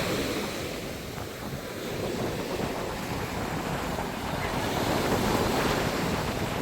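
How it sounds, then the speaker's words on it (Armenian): Waves wash and rustle against the shore at night in Palma, a soft, continuous surf with gentle swells and light wind across the microphone, fairly distant and unbroken by voices. "Ոյ կարելի ասես լուր կանգնել ու այս ջրի խշխշոցը լսել"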